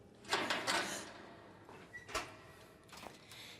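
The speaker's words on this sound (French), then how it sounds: "La porte." A door in an indoor drama scene slides or swings shut with a soft rushing scrape followed by a couple of light knocks, faint and close, with no talk over it.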